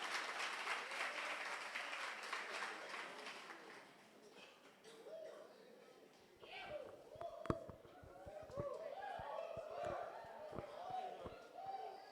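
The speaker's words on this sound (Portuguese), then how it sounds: "Mais palmas porque ficaram devendo as palmas de Emanha e Rayane." Clapping from a church retreat audience at Easter, dense applause for the first several seconds that thins out, followed by footsteps, knocks and murmuring voices in the room.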